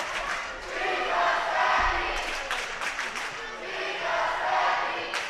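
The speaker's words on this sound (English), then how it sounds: "As you can hear the crowd say, she's a Sevy" Spectators at a high school volleyball match between Park Rapids and Wadena Deer Creek chant and cheer in a loud, steady crowd roar with rhythmic bursts, and an announcer's voice runs over it.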